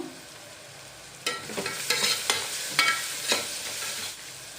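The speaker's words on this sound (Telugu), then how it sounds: "ఇప్పుడు ఇందులో ఒక మూడు స్పూన్లు కారం వేసుకుందామండి వేసి ఒకసారి అంతా మిక్స్ చేసుకుందాం" Chili powder being stirred into fried onions in a pan for mango mutton curry, with several distinct scraping strokes over a steady background sizzle, fairly close and with no talking.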